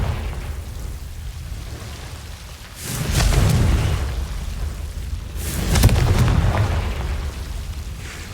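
Two booming blasts of the Confringo fire spell in Hogwarts Legacy, cast at Devil's Snare guarding a chest, each a loud broadband burst followed by a rumbling tail over a low ambient bed, spaced a few seconds apart.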